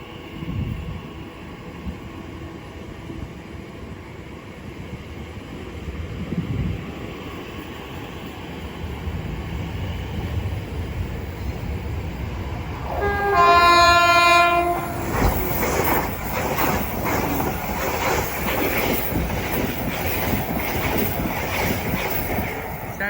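An Elizabeth line Class 345 electric train departs Shenfield station on the Great Eastern Main Line, starting with a low rolling rumble, then a loud multi-tone horn blast partway through, followed by rising wheel and traction noise as it pulls away.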